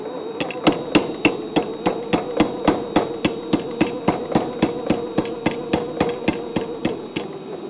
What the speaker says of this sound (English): I'm going to flatten this on the hammer, but not too much.